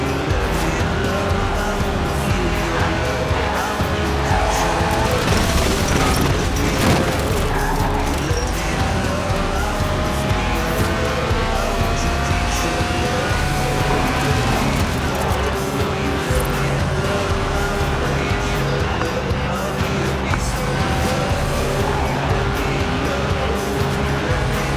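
Dense, continuous roar of a Lotus 1.8-litre engine revving toward 8,000 RPM in Forza Horizon, with pitch rising and falling and a busy, layered mix throughout.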